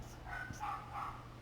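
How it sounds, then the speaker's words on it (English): A dog barks somewhere in the background, a few muffled woofs spread across a short moment, faint and distant behind a quiet room hum. "Sorry for the dog in the background."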